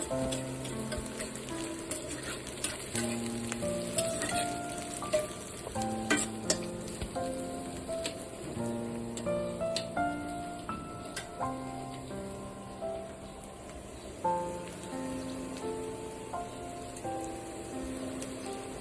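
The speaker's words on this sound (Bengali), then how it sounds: "আস্তে আস্তে পেঁয়াজগুলোকে এভাবে ভেজে নিতে হবে।" Onions slowly frying in a pan while a fish curry with potatoes and vegetable stems is being cooked, a soft continuous crackling sizzle with scattered pops and light utensil clinks, and no talking throughout.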